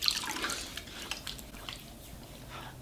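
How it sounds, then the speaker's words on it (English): Water splashing and dripping while rinsing cleanser off the face, quiet close-up splashes and drips in a short burst, no talking. "I'm just going to rinse it off"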